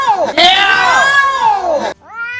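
A human voice imitates a cat on a stage show, giving a long, loud, wavering meow up close, followed by a shorter rising meow after a brief pause.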